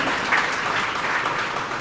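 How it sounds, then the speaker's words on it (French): An audience applauds at the inauguration of a town-centre development in Goodland, Mauritius, a steady dense wash of clapping filling the whole stretch without voices. "Alors, est-ce qu'on peut tout d'abord faire un tonnerre d'applaudissements pour Élise, notre violoniste"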